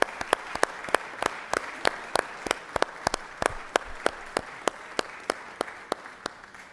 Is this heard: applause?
yes